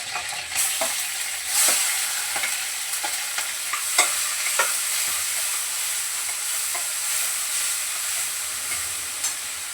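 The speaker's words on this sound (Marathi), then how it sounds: "टमाटा वगैरे इथं परततोय" Tomato sautéing over low heat with curry leaves and garlic in a pan for a stuffed brinjal dish: a steady sizzle with scattered scrapes and stirring clicks, close and continuous, no talking.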